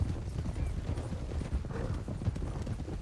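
A ridden horse's hooves clip-clop in a steady, close rhythm of dull thuds, with no talk over them.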